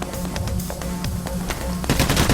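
Rapid bursts of automatic gunfire at police in the video game Payday: The Heist, dense and continuous with sharper shots near the end, loud and close.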